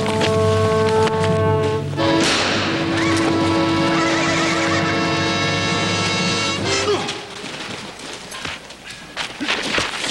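A horse neighs in a long loud whinny over several seconds, followed by quieter shuffling and hoof movement in a Western setting.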